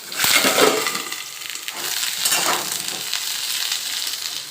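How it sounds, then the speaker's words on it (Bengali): Pointed gourd (potol) pieces drop into hot oil in a pan, giving a loud, dense sizzle that flares at the start, then settles into a steady bubbling hiss without speech. "তেল গরম হয়ে গেছে পটলগুলো আমি দিয়ে দিচ্ছি"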